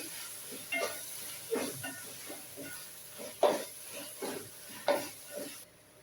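Mint and coriander leaves being sautéed for mutton biryani, a soft sizzle under repeated stirring scrapes that come in regular strokes about every second, close by and fairly quiet, with no talk.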